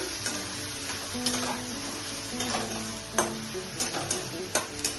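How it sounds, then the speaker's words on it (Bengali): Grated coconut and prawns fry in a pan for a prawn curry with greens, giving a soft, continuous sizzle under repeated close scrapes and clinks of a spoon stirring against the metal. "তাহলে এইভাবে আমি ফ্রাই করে নিচ্ছি। নারকেলটাকে।"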